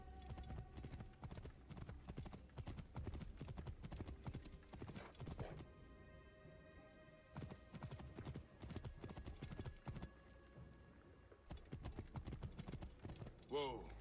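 A horse ridden at speed in Assassin's Creed Origins gives rapid clip-clopping hoofbeats that run steadily and close, broken by a brief whinny. It slows toward the end, and someone speaks briefly.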